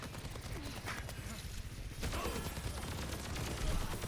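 Sojourn's weapon in Overwatch 2 fires in rapid, dense bursts on the Eichenwalde map, a continuous crackle of shots that grows louder partway through, close and steady with no pauses.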